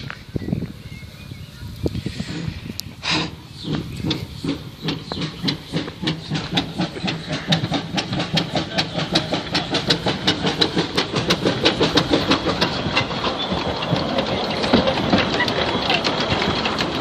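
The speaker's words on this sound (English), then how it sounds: "What a rubbish train." A steam train crawls slowly along a heritage railway, its wheels giving a steady clickety-clack rhythm over rail joints with hissing steam, growing louder and more regular as it rolls on.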